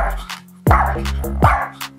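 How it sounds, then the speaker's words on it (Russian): Dog barking, two or three sharp close barks with a short yip between, loud and alone in a quiet indoor room. "Что тут за лай?"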